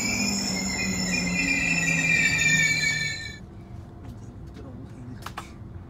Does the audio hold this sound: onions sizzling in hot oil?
no